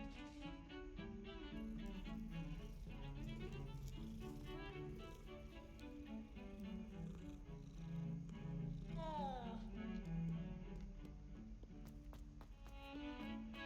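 A cat purrs in the video game Hogwarts Legacy, a continuous low rumbling purr with tonal game sounds and musical chimes layered over it, no talking.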